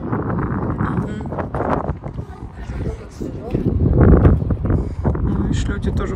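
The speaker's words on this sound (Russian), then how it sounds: "Ветер, да." Outdoor wind gusts buffet the microphone in a steady, rushing roar that swells and eases, mixed under close conversation during a house move.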